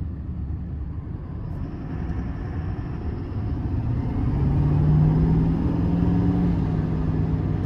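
A 2024 Chevrolet Silverado 2500HD High Country with the 6.6 Duramax diesel pulls away, its low engine rumble building steadily and growing slightly louder as it accelerates, heard from inside the cab.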